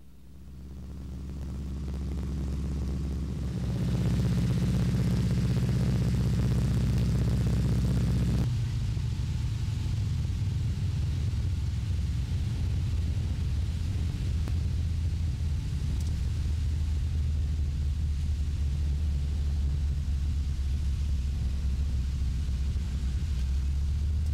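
Inside a de Havilland Beaver propeller plane in flight, a loud, steady low engine roar and cabin rumble builds up, then settles into a continuous deep drone for the whole stretch.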